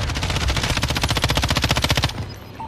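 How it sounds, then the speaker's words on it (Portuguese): Rapid automatic gunfire in a Call of Duty style video game, a dense fast burst of shots lasting about two seconds, loud and close, then cutting off. "o maluco deu tiro na parede"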